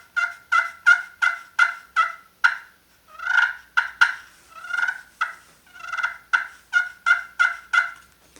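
A turkey pot call is played while held in the palm of the hand to deaden it, giving a series of crisp yelps in quick rhythmic runs with short pauses, close and loud, with no talking.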